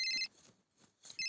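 A telephone rings in two bursts of bright electronic trilling with a short gap between them, close and clear, no talk over it.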